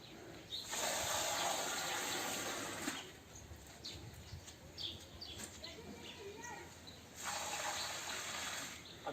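Water gushes out in two loud splashing bursts as a bucket is emptied while washing clothes at home, with birds chirping and faint voices between the pours.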